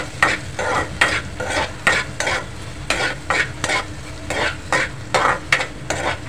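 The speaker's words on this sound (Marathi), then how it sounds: "तेलामध्ये छानपैकी परतून घ्यायचं आहे।" Green chillies sautéed in two to three tablespoons of oil, stirred with a utensil against the pan in repeated scraping strokes over a steady close sizzle, with no voices.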